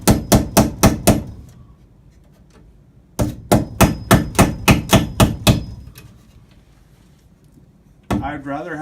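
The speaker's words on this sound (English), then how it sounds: "then I'll tack in my last nail" Hammer tacking a nail while installing kitchen lights: a quick burst of five sharp blows, a pause, then a longer run of about eight close, loud strikes, with a brief scrape at the end.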